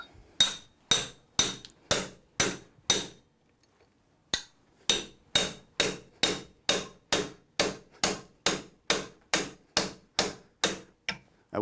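Metal mallet strikes driving a surgical broach into a sawbone model during a short-stem hip implant demonstration: about twenty sharp, ringing blows in steady rhythm, a brief pause after the first eight, then a longer unbroken run, close and loud.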